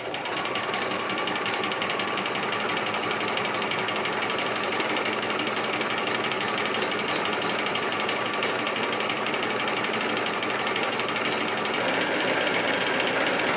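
A sewing machine stitches through print fabric joined to a second piece, a continuous fast mechanical whir and needle rattle that runs steadily and loudly throughout with no talking.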